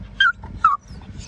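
A dog at a dog beach gives two short, high whimpering yips in quick succession, close and clear over faint background noise.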